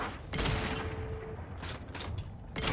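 Gunfire in The Outer Worlds 2 video game: a loud, close volley of rapid shots with a mechanical ring, pausing and then starting again in short bursts.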